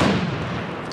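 A frag grenade explodes in a first-person shooter during a competitive tournament match, heard as a loud, continuous blast that fills the whole second with dense, rumbling energy.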